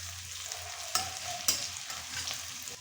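Chopped onion with black cumin and dried chilli frying in oil left from frying fish, a soft continuous sizzle punctuated by two distinct clinks of a spatula against the pan and gentle stirring.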